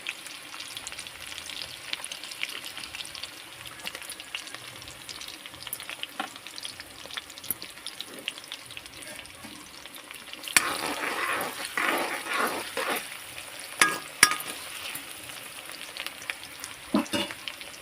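Green chillies fry in a pan with a continuous close sizzle, and scraping stirs by a spoon grow busier and louder in the second half; no one speaks.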